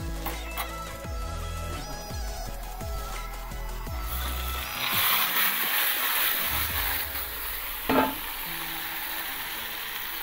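Marinated chicken goes into a pan of fried onions: a rhythmic scraping and clanking of stirring at first, then a louder, steady sizzle of frying close up, with one sharp knock near the end.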